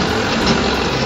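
A homemade vehicle's engine idles nearby, a steady, loud broadband rumble that holds evenly through the brief moment with no voices over it.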